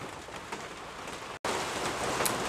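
Steady rain falling outdoors during a Datsun 1200 rebuild, a dense continuous patter of drops with a few louder splashes, broken by a brief cut near the middle before resuming at similar level.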